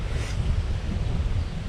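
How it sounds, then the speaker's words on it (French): Strong wind buffets the microphone outdoors in Clairfayts, a steady low rumbling roar with no breaks, loud and continuous throughout. "Il y a beaucoup de vent, ça m'énerve."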